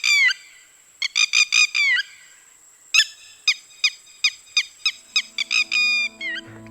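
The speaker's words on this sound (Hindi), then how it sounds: "जैसे यह रेड वेटल लैपविंग।" A red-wattled lapwing near fields in Kumaon gives a loud, close run of sharp repeated calls, a quick cluster, a pause, then a longer even series of strident notes trailing into faint background noise.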